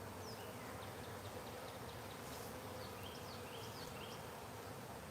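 A dense swarm of bees buzzing steadily around a hive at very close range, with a continuous drone and faint higher whines from individual insects passing nearby.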